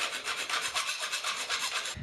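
A hand file rasps back and forth on a metal tube during a car chassis build, steady rapid scraping strokes repeating evenly for two seconds, close and fairly quiet, with no voices.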